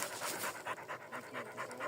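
A dog pants in a forest, quick, rhythmic breathy huffs repeating close by at a steady pace for a couple of seconds, with no one talking.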